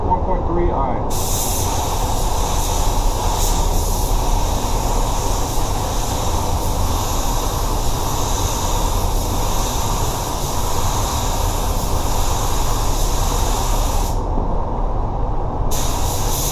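A spray gun lays Axalta 5500 clear coat over an Audi spoiler, a steady, loud, unbroken hiss that runs nearly continuously at close range with no voices.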